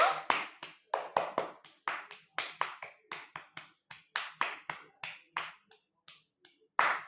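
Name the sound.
children clapping hands for the winner Bablu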